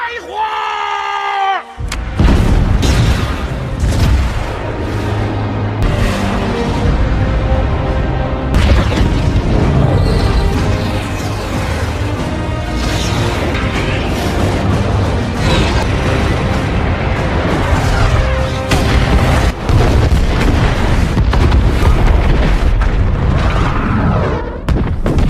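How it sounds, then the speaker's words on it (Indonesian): Missile strikes blasting enemy fighters and tanks in the action film Wolf Warrior 2, heard as loud, dense booming explosions layered with a rumbling battle din and shouting that runs continuously after a brief opening. "mereka pun langsung menembakkan rudal-rudal mereka dan menghancurkan para musuh serta menghancurkan tank-tank mereka"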